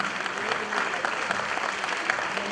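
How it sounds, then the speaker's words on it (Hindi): Steady applause from an audience at an indoor award ceremony in Delhi, dense clapping of many hands throughout, fairly close and even in loudness. "तालियां तब तक बजती रहनी चाहिए जब तक वो स्टेज पर आएंगे।"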